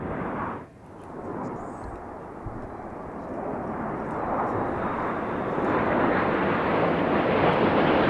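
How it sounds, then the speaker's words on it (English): Jet display aircraft rolling through a barrel roll at a Festival of Speed air display, a loud, steady roar that swells gradually, with wind buffeting the microphone. "Each aircraft will perform a barrel roll, followed by a cross, followed by inverted flight to leave the display area"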